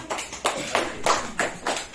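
An audience at a sales training session claps in a steady, synchronized rhythm, each sharp beat landing about three times per second, fairly loud with no talking over it.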